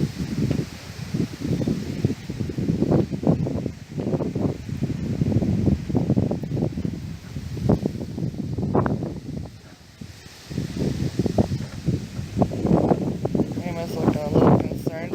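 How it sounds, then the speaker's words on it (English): Strong wind gusts blow through an outdoor garden, buffeting the microphone and rustling foliage in uneven surges, with people talking over the roar. "The wind is getting a little nasty, but we'll see what happens."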